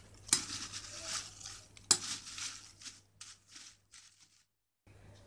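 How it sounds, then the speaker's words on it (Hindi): Chopped onion and fresh green coriander tossed together in a bowl for leftover roti bhel, heard as two sharp clinks of a spoon against the bowl followed by soft scraping and stirring sounds that trail off into near silence. "सबसे पहले प्याज डालेंगे कटे हुए, हरी धनिया, और इन दोनों चीज़ों को पहले अच्छे से मिक्स कर देंगे।"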